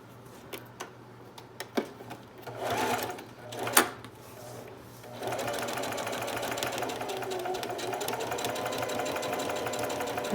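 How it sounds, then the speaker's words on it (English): A sewing machine top stitches a zipper into a tote bag, steadily whirring at a slow, even pace after a few soft handling clicks and rustles at the start. "So that's what I'm getting ready to do now. I'll do that top stitch."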